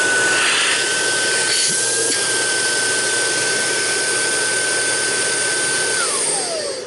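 A Dyson DC22 bagless vacuum cleaner motor roars steadily with a high whine, then winds down near the end as it switches off.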